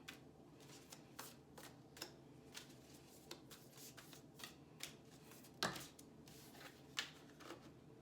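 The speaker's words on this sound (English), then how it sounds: "Sloppy shuffling." Oracle cards are shuffled loosely in a quiet room, a run of soft papery riffles and taps with occasional louder snaps.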